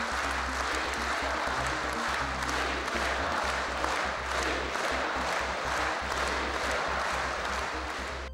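Turkmen parliament members applauding President Niyazov, a dense continuous wash of clapping from a large hall that holds steady throughout with no pauses.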